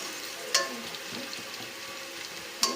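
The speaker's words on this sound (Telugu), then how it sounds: "ఇప్పుడు మనం దీంట్లో అల్లం వెల్లుల్లి పేస్ట్ వేసుకుందాం" Ginger garlic paste frying with browned onions in ghee for biryani, a soft steady sizzle broken by two sharp clanks of a utensil against the pan.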